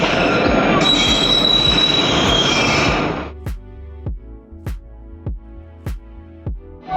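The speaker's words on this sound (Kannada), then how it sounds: "ನಾವು ಈಗ ಮಂತ್ರಾಲಯಕ್ಕೆ ಹೋಗೋಂಥ ಟ್ರೈನ್ ಬಂತು" A train bound for Mantralaya rolls into a station loudly with screeching wheels, then slows into a steady rhythmic clatter of wheels over rail joints.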